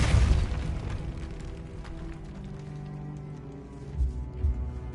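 Depulso spell effect in the Hogwarts Legacy video game: a heavy booming burst at the start that decays into a low rumbling tail, followed by a couple of softer thuds near the end.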